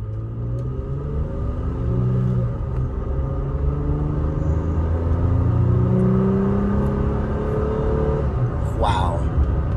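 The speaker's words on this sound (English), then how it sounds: "That's not me mashing down on the gas pedal. That's just a little gas right there." A tuned Toyota Tacoma pickup engine rumbles loudly under light throttle, its pitch climbing gently and easing off in a steady, close drone while a driver talks over it.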